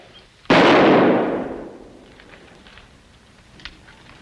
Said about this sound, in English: If it's nonsense, Haskins, then you can't object if I fire this rifle at you.